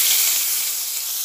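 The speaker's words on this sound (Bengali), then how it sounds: "এই তেলটার মধ্যে কিছুটা পেঁয়াজ কুচানো দিয়ে দিচ্ছি" Chopped onion sizzles in hot frying oil left over from frying eggs, a steady close bright hiss with no talk.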